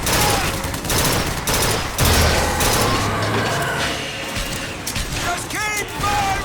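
Rapid gunfire bursts from a fight in BioShock Infinite on hard difficulty, loud and dense throughout with crashes and mechanical clatter, while voices shout over the shooting.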